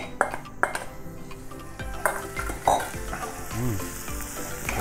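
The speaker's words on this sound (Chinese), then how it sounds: "咁我哋正话切咗嗰啲嘅咖喱啊、乾葱啊等等咧，我哋就要打落去炒" Curry, shallots and chili are stir-fried in oil in a wok for a pepper-sauce chicken chop dish, with a steady sizzle, sharp clinks of a spatula against the metal, and scraping stirs close by.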